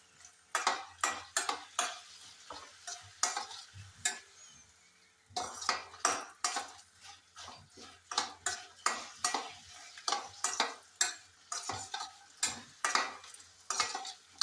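Chopped pappadam pieces are fried in hot oil in a pan for pappada kondattam, with a quiet sizzle beneath repeated metal clinks and scrapes from a utensil stirring against the pan.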